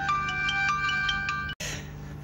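A phone ringtone plays a bright, repeating electronic melody at moderate loudness, then cuts off abruptly, followed by a brief rougher noise.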